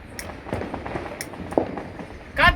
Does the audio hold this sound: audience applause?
no